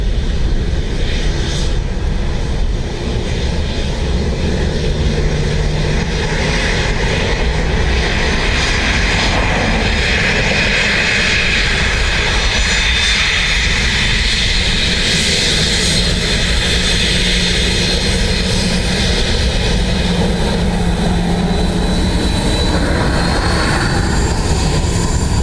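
Airliner landing on runway 28 left at Dublin Airport, loud sustained jet engine roar with a whining, shifting tone that stays steady and close throughout, with no talking.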